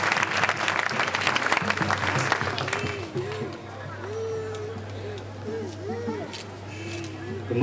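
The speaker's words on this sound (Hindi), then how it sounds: "पुनर्बार करताली माने धन्यवाद देवा" An audience claps in thanks at a pre-Christmas celebration in a town hall in Parlakhemundi, Orissa, with dense applause for about three seconds that thins to a softer patter while a voice speaks over it.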